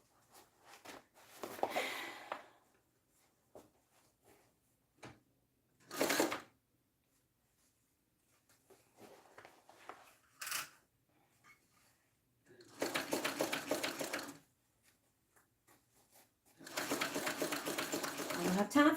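A domestic sewing machine runs top stitching on a heavy piece in short bursts of fast whirring, close and separated by pauses, with someone talking between the runs.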